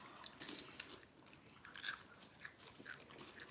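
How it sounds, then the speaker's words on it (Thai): Popcorn is chewed close to the mic, with a series of soft, crunchy bites and munching at an irregular rhythm, quiet and alone. "กินพ๊อปก่อนนะอร่อยดีพี่น้อง"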